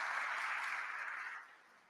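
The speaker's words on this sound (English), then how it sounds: "Give them a round of applause even before they've done anything." Audience applause for jazz musicians, a short burst of many hands clapping at moderate distance that holds briefly and then fades out, heard alone without talk.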